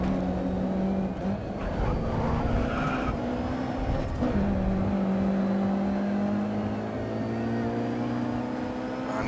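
Racing car engine in the video game Grid Autosport, a loud continuous drone that climbs and shifts pitch as the car accelerates, with tire squeal mixed in throughout.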